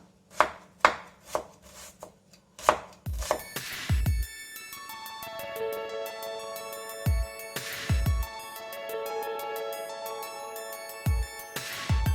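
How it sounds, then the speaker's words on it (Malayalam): Knife finely slicing onion on a board for oats dosa: a run of crisp, evenly spaced chops, then a ringing electronic tone sounds under further scattered knife strikes near the mic. "നമ്മള് സവാള ഇതുപോലെ ഏറ്റവും നൈസായിട്ട് തന്നെ സ്ലൈസ് ചെയ്തെടുക്കുക."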